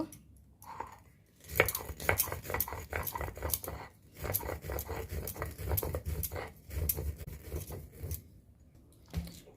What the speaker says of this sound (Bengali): কিছু বাটার জন্য আমি শিলে নিয়েছি কালো সর্ষে কাঁচা লঙ্কা আর লবণ একসঙ্গে এই তিনটেকে আমি বেটে নেব